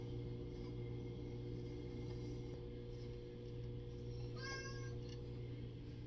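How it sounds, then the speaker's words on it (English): A single cat meow rises briefly over a steady, loud mechanical hum in a kitchen, faint and somewhat distant. "That's my cat saying, like, get out of my kitchen."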